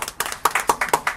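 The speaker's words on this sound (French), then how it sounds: "Sous vos applaudissements." An audience claps at a live stage event as a performer is introduced. The claps come in a quick, uneven rhythm, sharp and close, with several distinct hand strikes in about a second.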